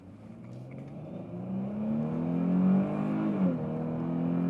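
A 2021 Dodge Challenger GT AWD's V6 engine revving up: a smooth, rising drone that climbs steadily in pitch and loudness, briefly eases, then pulls again, heard up close with no talking.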